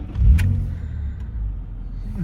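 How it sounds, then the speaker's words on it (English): A 1999 BMW Z3 M Coupe engine cranks and fires on a cold day, a brief loud starter burst settling into a low, steady idle rumble. "let's get this thing started and go."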